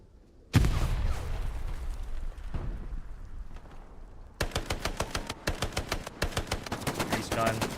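Bursts of M3 grease gun submachine gun fire in Hell Let Loose, a loud rattling string of rapid shots after earlier heavy battle rumble, with brief pauses between repeated bursts.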